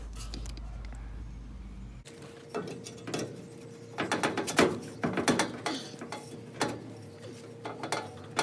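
A 7-inch exhaust tip is slid onto the 5-inch straight pipe of a 7.3 Powerstroke, giving a series of close metallic scrapes, clanks and ratcheting clicks in irregular bursts.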